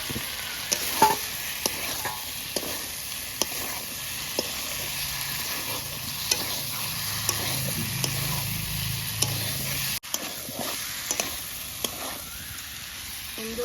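Fried chicken pieces and fried potatoes sizzle in spiced masala in a pan for a chicken curry, a steady close hiss broken by regular sharp clicks of a spoon stirring and scraping.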